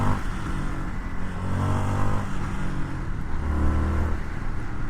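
A 2023 Indian FTR Carbon R motorcycle is ridden with a steady, loud engine drone that rises and falls slightly as it pulls along, and no talk is heard.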